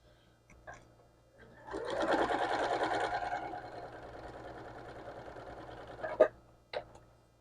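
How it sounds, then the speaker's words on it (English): Sewing machine stitching quilt pieces, a close, quiet rapid whirring run lasting several seconds with a soft mechanical rattle, followed by a few small clicks. "So we'll go ahead and sew that down."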